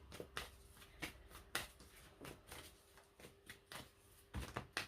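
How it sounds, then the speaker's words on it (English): Tarot cards being shuffled by hand, a series of quiet, crisp riffling and slapping bursts at irregular intervals, close by and faint, with no talking. "Let's finish the shuffle and then I'll pick them up."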